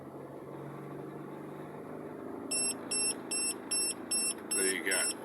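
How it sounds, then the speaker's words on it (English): A car's RPM warning alarm gives regular electronic beeps, about seven in a row, pulsing over a steady low engine drone as revs pass 3,000 RPM. "RPM alarm has just gone off"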